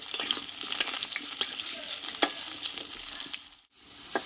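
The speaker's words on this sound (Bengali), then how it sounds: "আমি চার থেকে পাঁচ মিনিট মতো ভালোভাবে কষিয়ে নেব" Potatoes frying in a pan for a five-vegetable curry, with steady sizzling under repeated scraping and stirring strokes, close and fairly loud, briefly dropping out near the end.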